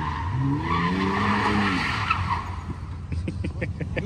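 Drift car at a drifting event, tires screeching in a long wavering squeal over a roaring engine, then giving way to rapid popping engine bursts near the end, loud and close.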